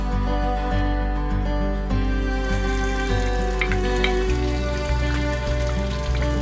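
Onion goes into hot bacon oil for smothered collard greens, crackling and sizzling continuously and fairly loudly beneath steady background music.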